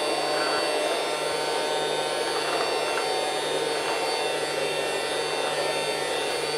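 A Casdon toy Dyson Ball vacuum cleaner runs with a continuous, even electric whine and hum, close and steady throughout, with faint soft rattles of small balls being picked up.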